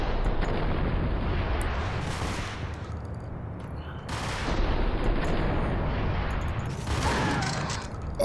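Shotgun blasts and bursts of gunfire in the action game Max Payne, loud and repeated, with heavy booming reports overlapping one another and no pause between them.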